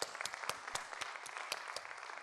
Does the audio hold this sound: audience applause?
yes